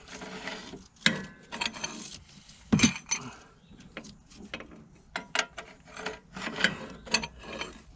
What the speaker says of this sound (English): if I keep turning, then it'll eventually let me take the nut off